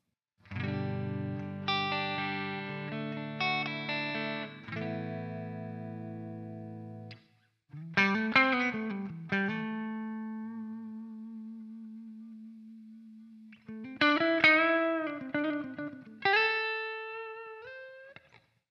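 Electric guitar played through a NOVA GO SONIC with processing switched on: distorted chords and single sustained notes with bends, ringing out alone in separate phrases with brief pauses between.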